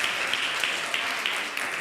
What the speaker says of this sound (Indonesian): beri tepuk tangan buat saudara kita